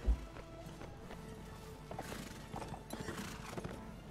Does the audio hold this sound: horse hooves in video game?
yes